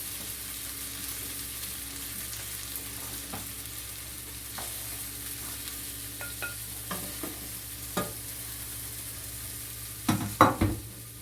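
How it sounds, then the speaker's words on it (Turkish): Pieces of chicken for a baked béchamel chicken dish are stirred in a pot over a steady low sizzle, with scattered scrapes and knocks that grow into a louder clatter near the end, and no talking. "tencerede çeviriyoruz"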